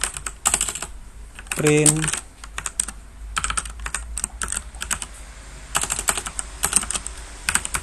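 Keyboard typing of Python code on a computer: bursts of close, rapid key clicks at the start and again near the end, with a short stretch of talk in between.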